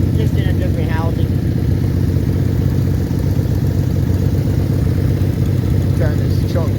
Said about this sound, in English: The 6-cylinder definitely sounds better.